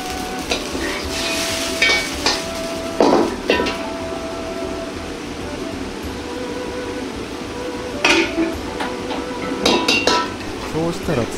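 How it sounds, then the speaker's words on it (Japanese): Meat stir-fried over low heat in a pan, loosened as it cooks, for a bamboo shoot and meat ankake yakisoba; a steady frying hiss with repeated utensil scrapes and clinks against the pan. "低めの温度でほぐすように炒めていきます"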